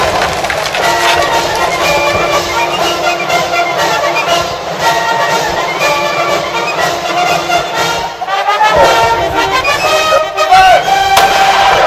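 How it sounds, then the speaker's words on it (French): An artillery barrage in a video game produces a loud, dense, continuous roar of booms and rumbling blasts that barely lets up across the whole stretch. "On va avoir un barrage d'artillerie d'en face. Ils vont nous pilonner."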